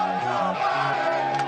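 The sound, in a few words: crowd chanting "let's go Brandon"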